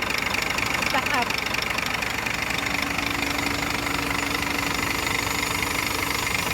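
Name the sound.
truck engine running after feed pump inlet valve removed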